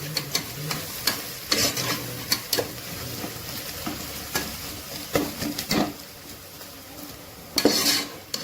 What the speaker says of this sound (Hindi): प्याज अच्छे से लाल हो रही है और अभी थोड़ा बाकी है, तो इसे और थोड़ी फ्राई करूंगी मैं